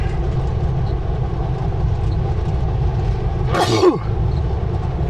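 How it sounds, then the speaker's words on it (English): A single sharp sneeze bursts out over the steady rumble of a vehicle driving along. "I feel like I'm gonna sneeze."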